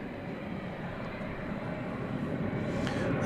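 A Boeing 767 just in from Houston taxis at DFW Airport at night, its engines a steady broad rumble and whine that swells slightly toward the end.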